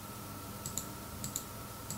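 Several faint, sharp computer mouse clicks, irregularly spaced, while points are picked in ODEON room acoustics software, over a steady low hum with no talk.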